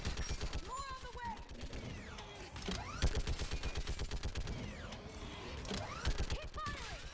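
Rapid, steady gunfire rattles on without a break through a Mass Effect 3 battle, loud and close, while voices shout over the shooting.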